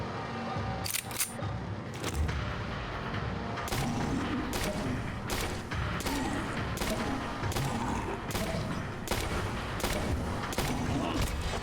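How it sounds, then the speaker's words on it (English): Repeated loud shotgun blasts in the horror game Tormented Souls, a dozen sharp booms spaced about every half second to second over a dense, rumbling background. "What a shotgun."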